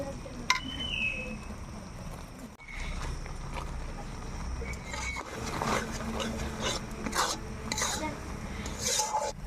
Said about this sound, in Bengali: বেসনের ঝুড়িগুলো গুঁড়ো করে রাখা এগুলো এখন দিয়ে দিচ্ছি